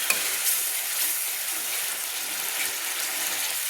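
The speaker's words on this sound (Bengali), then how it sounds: "আমি মশলা জলটা দিয়ে আমি মশলাটা সুন্দর করে কষিয়ে নিচ্ছি" Ginger-garlic spice paste fries in oil for a Bengali brinjal and prawn dish, giving a steady, close hiss of sizzling across the whole stretch with no voices.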